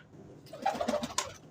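A pigeon coos softly nearby, a short burst of low throaty notes rising over light background noise, with a brief sharper sound near the end.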